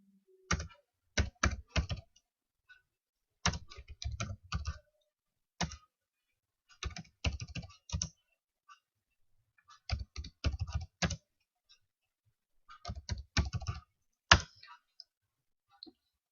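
Numbers being typed into an Excel spreadsheet on a computer keyboard: short bursts of crisp, close key clicks separated by pauses, with a firmer keystroke near the end like an Enter press.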